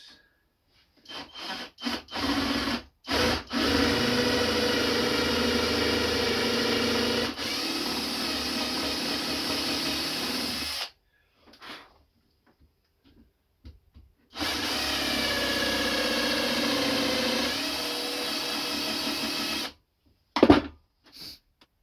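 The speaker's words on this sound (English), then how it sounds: "Just gonna drill this." A power drill whines and bores into wood in two long sustained runs, with short pauses and a few clicks and bumps between them.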